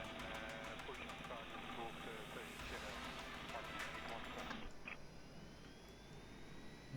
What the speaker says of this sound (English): We'll start with the right engine.